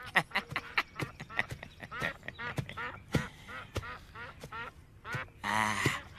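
Wild ducks, meliwis, quack repeatedly in a loud, close series of calls, with a denser burst of quacking near the end.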